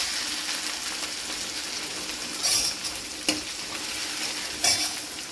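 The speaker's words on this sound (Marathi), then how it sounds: "या अद्रक लसणाच्या पेस्टला छान असं परतून घ्यायचं" Ginger garlic paste sautéing in a pan, a steady soft sizzle with a few stirring scrapes of a spoon, close and fairly quiet, no voices.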